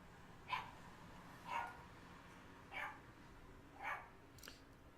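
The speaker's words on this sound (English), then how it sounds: "I don't know if you guys can hear the dog outside." A dog barks four times at slow, even intervals, muffled and distant as if from outdoors, over a steady low background hum.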